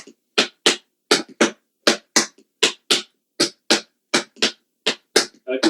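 Tap shoes striking the floor in a run of spank steps, a steady string of sharp, close taps, some in quick doubles, clear and bright in a quiet room with no voices.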